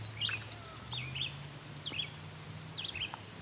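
Distant gulls, a mix of ring-billed and herring gulls, give four short, faint calls overhead at an outdoor lakeside lane, over a steady low background hum.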